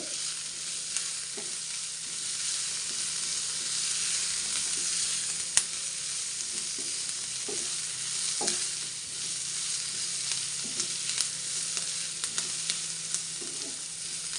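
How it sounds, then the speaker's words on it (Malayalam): Onion frying in a pan with ginger and garlic, a steady loud sizzle running throughout with soft intermittent scrapes and taps of a spoon being stirred, no voices. "ഇഞ്ചിയും വെളുത്തുള്ളിയും ചേർത്ത് കൊടുത്തതിന് ശേഷവും നന്നായിട്ട് തന്നെ ഇളക്കി കൊടുക്കണം"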